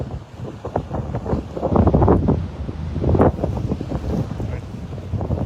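Strong wind buffeting the microphone beside the Pacific Ocean at Maborikaigan in Yokosuka, Japan, a loud, steady roar that swells and gusts continuously.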